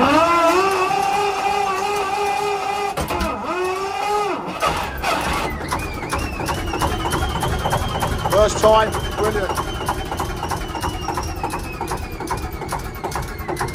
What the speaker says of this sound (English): that's how to start the Kelvin K2 on Alfred